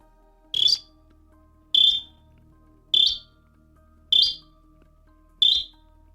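A clay whistle gives five short, sharp whistled chirps imitating a small frog's call, at an even pace, about one per second, with quiet gaps between.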